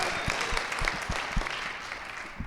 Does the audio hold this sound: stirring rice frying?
no